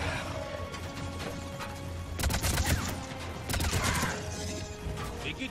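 Rapid bursts of cannon gunfire in the video game Mass Effect 3, with sharp cracks and clattering impacts that swell into two loud flurries, alongside mechanical clanking.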